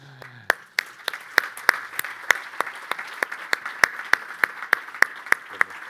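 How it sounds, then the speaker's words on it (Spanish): An audience applauds in a slow, rhythmic unison beat at a poetry and football event, sharp claps repeating roughly twice a second, fairly close and steady throughout, with no speech over it. "Repitamos aplauso porque yo creo que es un cierre perfecto."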